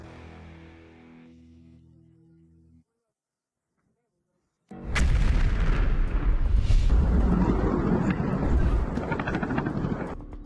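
Quiet tonal background, a pause of silence, then a sudden loud burst of broadband roaring and crackling explosions in Russia that continues, heavy and close.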